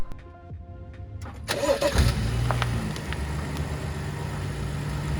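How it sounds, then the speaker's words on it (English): A BMW 435i F32 engine cranks and catches partway through, then settles into a steady, close idle rumble that carries on to the end. "I turned on the car"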